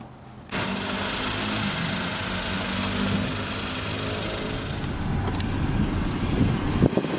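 A Kia Soul car drives along with a steady engine drone and road rumble, accompanied by buffeting wind noise. The sound begins abruptly after a brief quiet moment and holds at a fairly loud, even level, with a couple of sharp knocks near the end.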